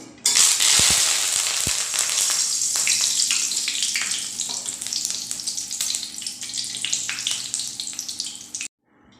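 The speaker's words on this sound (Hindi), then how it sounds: "अब हम थोड़े से करी पत्ता को फ्राई करेंगे" Curry leaves dropped into hot oil, a loud close crackling sizzle that sputters and pops continuously before cutting off abruptly at the end.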